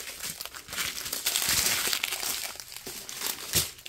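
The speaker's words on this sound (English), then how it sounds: "Sorry, a lot of crinkling, Gypsy, I know." Plastic packaging gets handled and squeezed close up, a continuous crisp crinkling and rustling that swells and fades in irregular bursts over a few seconds, with no talking.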